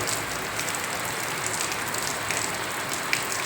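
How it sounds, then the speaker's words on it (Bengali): Continuous rain falls steadily in an even, broadband hiss of drops on surfaces, with a few slightly sharper drips standing out, no voices present. "কন্টিনিউয়াস হয়েই চলেছে দেখো বৃষ্টি থামবে কিনা তাও কতক্ষণে থামবে জানি না"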